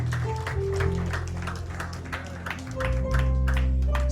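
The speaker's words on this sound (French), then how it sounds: "On nous applaudit" A church congregation at an annual convention applauds its choir, a crowd's scattered clapping over sustained low tones of music.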